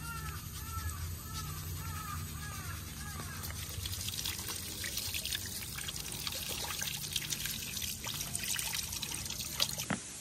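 Water pours and trickles steadily while dirty Honda Dio scooter parts are washed, a faint continuous splashing with crows cawing in the background and a brief clatter near the end.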